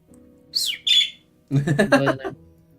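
Pet bird chirping and squawking indoors: two short rising high calls, then a longer burst of busy chattering calls over a faint low hum, fairly close.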